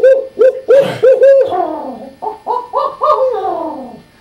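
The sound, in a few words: person imitating an owl hooting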